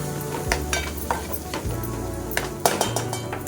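Soaked kurdai being sautéed in masala in a pan, with steady spatula scraping and light metallic clinks over a continuous low sizzle and a low background hum, heard up close.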